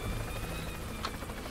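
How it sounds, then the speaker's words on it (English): A helicopter flying in the video game Worms W.M.D, a faint steady whirring rotor drone in the background with a brief brighter blip partway through. "My helicopter flying skills aren't very good in this."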